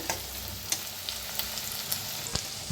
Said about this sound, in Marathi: आता छान याला भाजून घेऊया